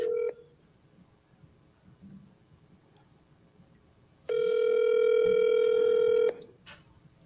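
Telephone tones sound: a short tone at the start, then after a quiet pause a steady, loud tone holds for about two seconds, heard alone without talk.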